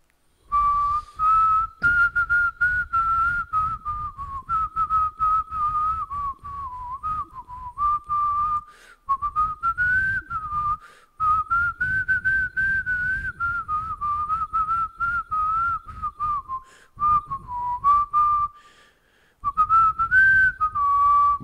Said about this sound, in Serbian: Ajde, prvo zviždanje.